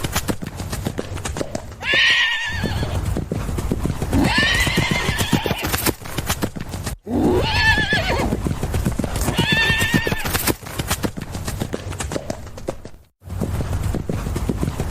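Horse hooves clip-clop loudly and steadily with several whinnies and neighs for a village story about an old man's son training wild horses, the hoofbeats continuous and close with brief pauses.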